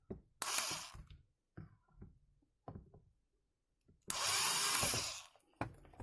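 A power drill whirs in two loud bursts while fixing a shoe rack, the first short and the second longer and sustained, with scattered clicks and knocks of handling between.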